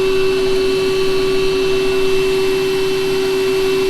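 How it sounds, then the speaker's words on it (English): An electric pump inflating an air mattress runs as a loud, steady drone with a strong constant tone, uninterrupted and without voices. "We can turn off the pump."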